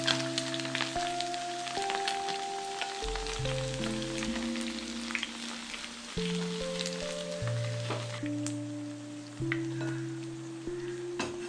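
Chicken 65 deep-fries in hot oil, giving a faint, continuous sizzle under steady background music.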